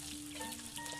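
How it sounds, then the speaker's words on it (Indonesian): Jengkol beans frying in a pan, giving a steady, faint hiss of bubbling oil that runs without a break and sounds close, with no voices. "jengkolnya buat lalap kita goreng aja"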